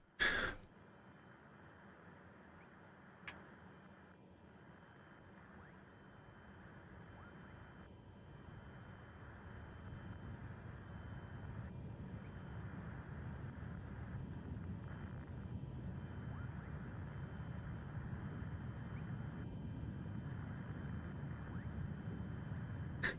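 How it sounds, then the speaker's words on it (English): Steady, rising aircraft engine drone from a small plane in Microsoft Flight Simulator 2024, a continuous low hum that swells and holds loud through the clip, with no talk over it. "Must really have the engine noise down low."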